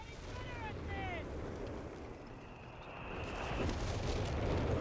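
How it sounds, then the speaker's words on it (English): Artillery bombardment in a World War II strategy game match sounds as low, rumbling blasts under a busy, noisy battle backdrop, growing louder toward the end. "Bishop bombarding somewhere."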